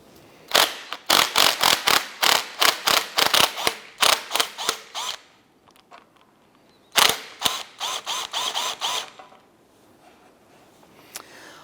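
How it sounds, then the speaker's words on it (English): The upper strut nut on an Acura TL front strut is loosened with a ratchet. Rapid bursts of loud, close ratchet clicking are split by a short pause and then resume before fading out. "we're going to go ahead and loosen the upper nut on our strut"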